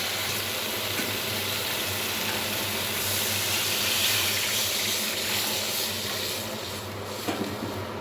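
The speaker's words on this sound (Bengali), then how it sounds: "এবার দিয়ে দেব পরিমাণ মতো জল" Water poured into well-fried spice paste and oil in a pan while cooking koi fish, a steady broadband rush and sizzle running continuously and fairly loud, without talk.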